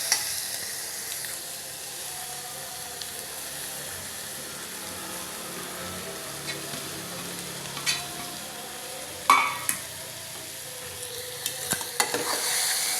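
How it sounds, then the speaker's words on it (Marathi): Bamboo shoot curry being stirred and mixed in a pan, a steady soft sizzle with scattered scraping clicks of the spoon against the metal, close and fairly quiet, with no talking. "त्यात चांगला मिक्स करून घ्यायचं आहे."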